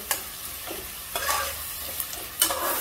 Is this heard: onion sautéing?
yes